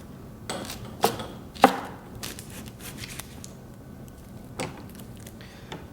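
A knife cutting through an onion on a board, a few faint, sparse chopping taps and slices at irregular intervals against quiet background.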